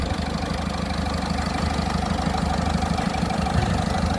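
A 2012 Ford Fiesta Classic diesel engine idles steadily up close, a constant mid-low rumble with a faint knocking texture and no break or voices.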